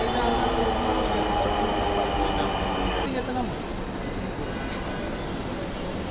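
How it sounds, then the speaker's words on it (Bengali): A Dhaka metro train pulls into a station platform at night, its steady rumble and rolling wheels loud and close, easing slightly as it slows, with a brief squeal near the end. "এখানে ট্রেন প্ল্যাটফর্মে এন্ট্রি করছে, এইমাত্র প্রবেশ করছে"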